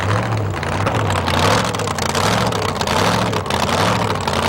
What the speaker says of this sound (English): Houser runs a big block Chevrolet, alcohol burning, 512 cubic inch alcohol burning Chevrolet.